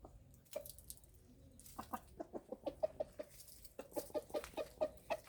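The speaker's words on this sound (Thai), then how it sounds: "ไก่มานจิกอะไร พริกเหรอ กินพริกเหรอ ไม่เผ็ดเหรอน้องไก่" A backyard chicken pecking at chili plants and clucking in a quick series of short, soft calls close to the microphone, with the rhythm picking up in the middle and again near the end.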